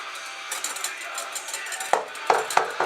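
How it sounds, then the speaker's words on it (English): A whisk beats hollandaise sauce with butter, giving soft rhythmic stirring and several sharp metallic clinks against the bowl toward the end, close and fairly quiet. "And always whisk."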